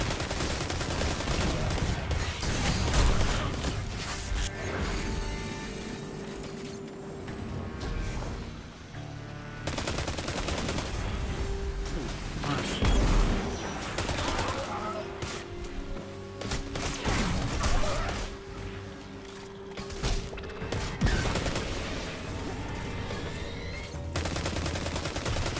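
Sustained gunfire in the sci-fi shooter Destiny 2 during a Warmind expansion heroic strike: rapid automatic bursts and repeated shots rattle almost continuously, with game effects layered underneath and no talk.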